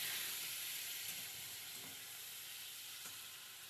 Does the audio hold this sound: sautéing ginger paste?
yes